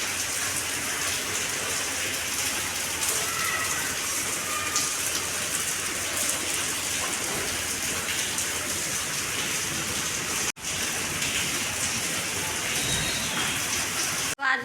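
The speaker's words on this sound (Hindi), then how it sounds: "तो अभी दोपहर के लगभग 12 बजने वाले हैं, और अभी भी कंटिन्यू बारिश लगी हुई है।" Continuous rain falls steadily on a midday in Uttarakhand, a dense, even hiss held at one level throughout with a single brief dropout near the end and no voices.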